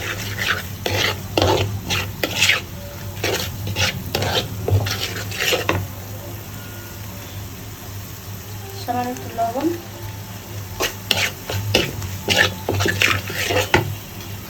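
Chili powder, ginger-garlic paste and salt sizzle in a pan for a poya fish bhuna as a spoon scrapes in quick repeated strokes, pausing briefly midway before resuming, while someone speaks over the cooking.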